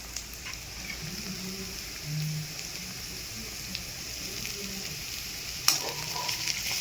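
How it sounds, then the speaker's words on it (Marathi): Chopped onion sautéing in a pan for a paneer curry gives a faint, steady sizzle with a few light stirring taps, one slightly louder near the end. "कांदा थोडी वेळ परतायचा"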